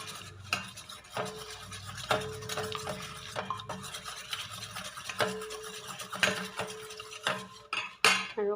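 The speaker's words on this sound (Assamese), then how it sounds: "এতিয়া মই গোটেই কণীখিনি মিক্স কৰি ল'ম 2-3 মিনিটৰ কাৰণে।" Eggs being mixed in a bowl for homemade cupcake batter, with a utensil clinking and scraping against the bowl in quick, irregular strokes, close and moderately loud, with no talking.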